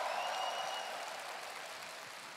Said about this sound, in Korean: 저희 합창단 분들한테도 큰 박수 주십시오.